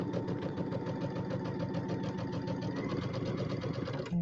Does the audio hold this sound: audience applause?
no